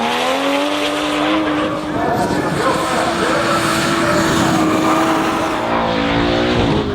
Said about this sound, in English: New Zealand's top female drifter again piloting a refreshed 2JZ powered Toyota Supra